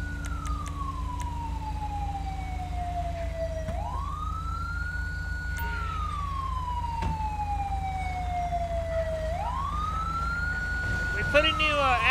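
A Dodge ambulance siren in Grand Theft Auto V wails in long falling sweeps, each one sliding down then snapping back up, loud and steady over a low engine rumble, with a brief burst of rapid warbling near the end.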